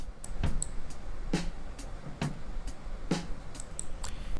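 An unprocessed snare drum in an FL Studio mix of a song hits in a steady rhythm, four dry cracks with faint bleed between them and no voices.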